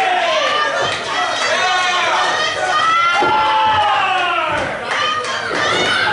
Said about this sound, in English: Can the crowd chant loud enough to give him the energy he needs?